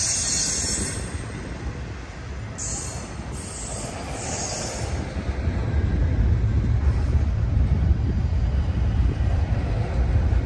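A Union Pacific train rolls past close by at Emeryville Amtrak Station, California, slowing to a stop, a steady heavy rumble with high metallic wheel squeals rising and fading, growing louder toward the end.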